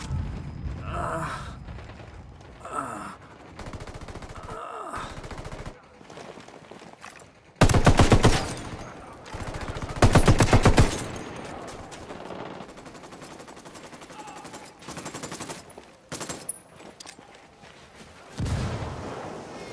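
Bursts of gunfire from Ghost Recon Wildlands: loud automatic volleys and single shots in uneven clusters, separated by quieter stretches with breathing, grunts and brief speech.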